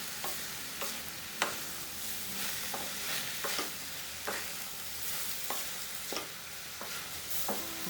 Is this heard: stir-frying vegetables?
yes